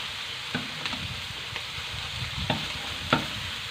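Munggo base ingredients browning in a hot pan, with a steady sizzling fry and occasional sharp scrapes of a utensil stirring, nearby and moderately loud with no talking.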